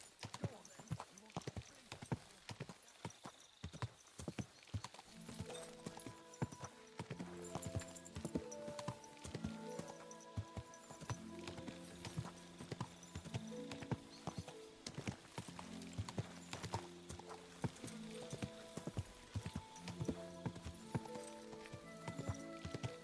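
Rhythmic horse hooves clip-clop at a steady pace in Kingdom Come: Deliverance 2, with a background musical score and occasional speech.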